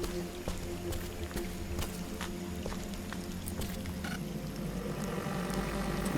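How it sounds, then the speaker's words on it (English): Water in the video game Scanner Sombre gives a steady, close, rushing and bubbling wash that never lets up, with faint clicks and tonal hums layered over it and no voices. "The water noise makes the scanner noise slightly less awful."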